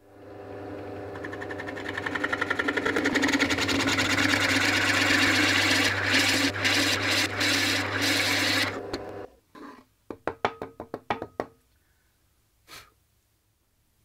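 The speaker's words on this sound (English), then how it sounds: "I'm just going to go to my drill press and I'll be using a Forstner bit to drill this one." A drill press hums steadily with a whirring, grinding Forstner bit biting into material, then it winds down into a series of short clicks and knocks.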